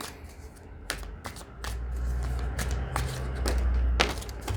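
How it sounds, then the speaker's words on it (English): Tarot cards being shuffled by hand, a run of quick papery riffles and soft taps, close and moderately loud, with a low hum underneath. "So let's shuffle and see what the cards will be."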